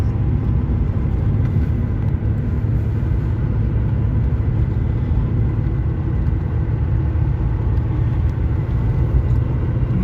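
A Porsche 911 Carrera 3.2 Targa drives along, its engine and road noise forming a constant, loud rumbling drone heard from inside the car without a break.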